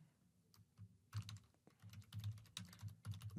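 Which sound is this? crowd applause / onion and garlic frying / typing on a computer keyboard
typing on a computer keyboard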